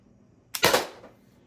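A single sharp shot from an Umarex HDP50 pistol, a loud close crack with a short trailing decay in otherwise quiet surroundings.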